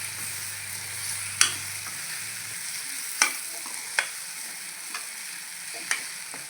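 Raw potato curry with chilli powder stirred in a pan: a steady quiet sizzle runs throughout, broken by several sharp spoon scrapes and clinks against the pan at irregular intervals, close by with no voices.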